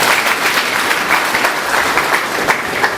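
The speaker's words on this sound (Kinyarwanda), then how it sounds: "muha amashyi nawe" Steady applause from a ceremonial gathering honoring Burundian elders, continuous dense clapping throughout at even volume with no talk.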